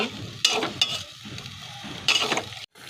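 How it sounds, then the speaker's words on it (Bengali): Fish heads fry in a pan with chili powder while being stirred. The sizzling comes in bursts, with scraping and clinking stir strokes close by and softer frying between them. "এবার আমি ভালো করে মাছের মাথাটাকে কষিয়ে নেব।"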